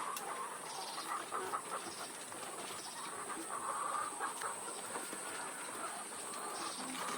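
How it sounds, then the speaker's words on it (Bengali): Chickens cluck on a bamboo platform poultry farm, a busy, steady chorus of many birds at moderate distance, with a constant high electrical hum running underneath. "মাচার উপরে মুরগিগুলো অনেক ভালো হয়।"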